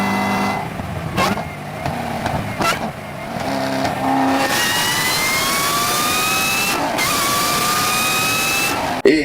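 A Chevrolet Corvette C6 ZR1 with a supercharged 6.2-litre V8 revs loudly, first in short blips and bursts, then in long rising full-throttle pulls with supercharger whine, close and powerful.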